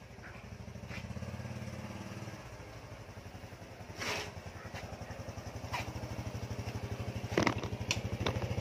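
A motorcycle engine idles and runs close by, a steady low rhythmic putter with a slight rev change early on, occasional clatter and clicks, and no talking.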